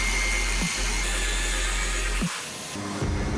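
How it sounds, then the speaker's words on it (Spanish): An angle grinder cuts the iron claw-shaped pieces off an alternator rotor mounted on a precision lathe, making a steady loud whine with two short dips in pitch before the tone changes near the end. "con una amoladora angular cortaremos todas esas piezas de hierro en forma de colmillos"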